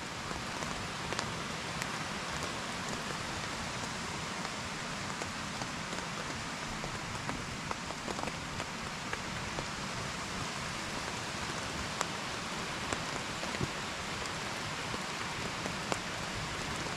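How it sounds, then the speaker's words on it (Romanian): Steady rain during a mountain storm patters onto a tarp shelter overhead, a dense even hiss broken by scattered sharper drop taps, close and constant throughout. "Dragilor, a venit ploaia."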